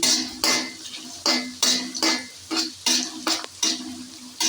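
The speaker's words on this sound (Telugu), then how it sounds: "ఇవి గోల్డెన్ కలర్ వచ్చేదాకా వేయించుకోవాలి." Onions frying in a pan with cumin and mustard seeds for Rayalaseema uggani, a spoon stirring and scraping in a steady rhythm of repeated strokes over a soft, constant sizzle, close and clear with no talking.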